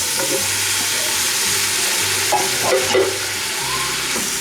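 Steady frying sizzle in a pan, with a brief clatter and rustle of canned green beans landing and being stirred partway through; no one speaks.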